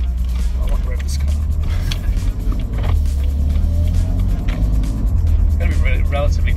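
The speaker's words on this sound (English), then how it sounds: "I want to rev this car" A BMW M3 engine revs beneath a loud, rumbling drive, low engine roar rising and falling inside the car while someone talks over it.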